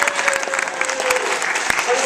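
Graduation crowd clapping for coaches at the back of the hall, dense applause filling the moment with a few louder nearby claps, voices murmuring underneath.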